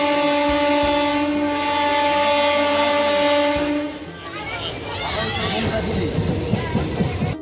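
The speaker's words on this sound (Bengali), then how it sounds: "আমাদের ট্রেনটা ছেড়েও দিয়েছে।" A passenger train pulls out of Tarakeswar station, a loud sustained horn blaring for several seconds before giving way to rumbling, clattering wheels and carriage noise as it gathers speed, with voices faintly in the background.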